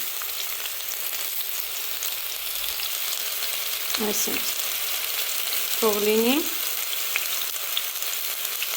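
Vegetables, mostly whole with a few large ones cut, fry in a pan with a constant bright sizzle, while a voice speaks briefly twice over it.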